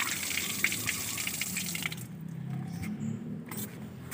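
Water runs steadily from a pipe with a broad rushing hiss, then quiets to a lower gurgling flow, close by with no talking.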